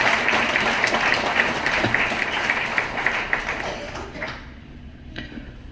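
Audience applause at a speech about the revolutionary Raje Umaji Naik, a dense sustained clatter of clapping across the room that stays steady, then thins and fades out near the end.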